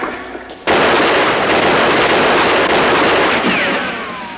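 War battle gunfire in a World War II combat drama: a sudden loud, dense barrage of shots and blasts that begins abruptly and roars on continuously, close and overwhelming, fading slightly at the end.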